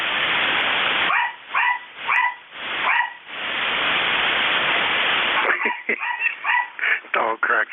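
A dog barks and yips repeatedly over a band-limited ham radio voice transmission, the barks coming in short bursts between stretches of static-laden carrier noise, loud and close in the received signal.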